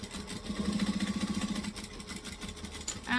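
A sewing machine stitches a bag with its bobbin running low, giving a close, rapid rhythmic chatter that steadies, loosens, then breaks into a brighter whir at the end, with no voices.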